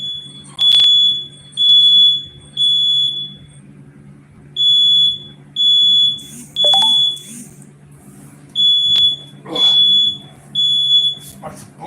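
Indoor smoke alarm going off with no cooking underway: loud, piercing beeps in steady groups of three, separated by short pauses, over a low constant hum, with a brief sharp bang in the middle.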